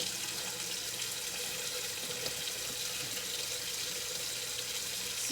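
Tap water runs steadily and loudly into a sink while mushrooms are rinsed under the stream, a continuous close-up rushing splash with no talking.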